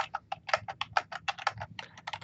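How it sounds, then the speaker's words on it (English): Typing on a computer keyboard while entering values into an Excel spreadsheet: a quick, close run of crisp key clicks in an uneven rhythm, with no talk over it. "Just typing in the same value that you can see on the screen there"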